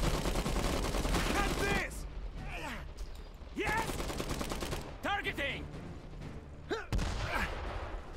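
Gunfire in the World War I–style strategy game Iron Harvest: dense, sustained volleys of rifle and machine-gun fire roar through the first seconds, then sharp bursts and single shots sound amid shouted unit voice lines.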